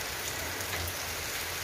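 Steady rain falling on a house roof, a dense, even patter of drops spread across the whole clip with no voices or other sounds.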